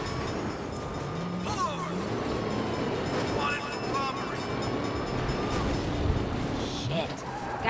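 A train rumbles past in the Saints Row video game, a steady, loud mechanical roar that holds for the whole stretch, with faint tonal whines and other game sounds mixed over it.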